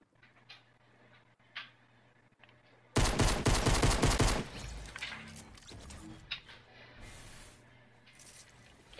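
Pistol fire in a video game: a sudden loud burst of rapid gunshots lasting over a second, then trailing echoes and scattered softer impacts.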